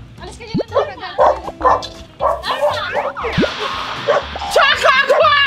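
During a game on a TV variety show, a person vocally imitates a dog with a run of short, yappy barks and yips. Other voices and lively studio chatter surround the barking.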